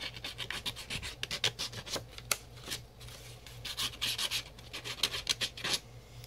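Card paper edges are distressed by hand, making close, quiet, rapid scraping strokes in an irregular rhythm, like a rasp dragged repeatedly along paper.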